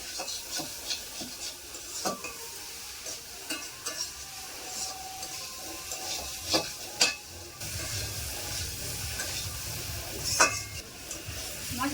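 Spice masala with tomato is sautéed for a soybean curry, with a soft background sizzle and intermittent scraping strokes of a spoon against the pan, fairly close and quiet.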